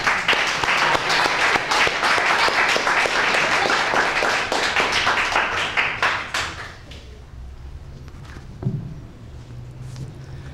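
An audience at a 1999 poetry reading in a library bursts into dense, enthusiastic clapping that fills the room for about six seconds, then fades to scattered claps and quiet room noise with a brief knock.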